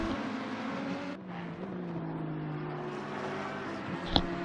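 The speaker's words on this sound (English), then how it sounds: "But let's see what Karsten can do, looking very fast in the sister McLaren here." McLaren race car in the Assetto Corsa Competizione racing game at Misano, its engine holding a steady high drone with a brief lull in the middle and a sharp click near the end, no talk.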